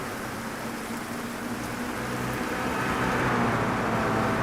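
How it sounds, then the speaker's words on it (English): Steady rain hiss in a sim racing game at Virginia International Raceway, a continuous broadband wash with a low engine-like drone beneath, swelling slightly toward the end. "the rain is expected to lighten in about 15 minutes"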